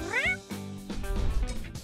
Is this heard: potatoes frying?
no